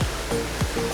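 Meenmutti waterfall in Wayanad pours with a constant, dense roar of falling water, loud and close, an even wash of noise with a couple of faint thuds within it.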